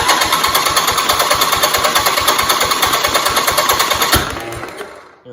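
A flooded 1971 Hydraulic Lift 110 garden tractor engine, fresh from a head gasket repair, runs rough and loud with rapid rhythmic knocking pulses under throttle, then the revs drop sharply and it winds down toward stopping.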